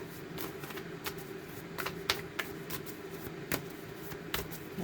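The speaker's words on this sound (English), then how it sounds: "Get a good shuffle." A deck of angel oracle cards is shuffled by hand, quiet riffling and soft slapping with a string of sharp card snaps at irregular intervals, close and alone.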